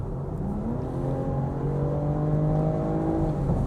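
BMW M440i Convertible in comfort mode under hard acceleration, its engine note rising steadily in pitch as it pulls, loud and close from inside the car with no talk.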